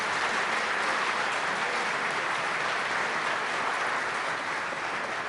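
Steady, dense applause from a large audience at an evening chamber of commerce awards presentation in Greater Rochester, honoring the board officers; the clapping stays loud and even throughout without a break.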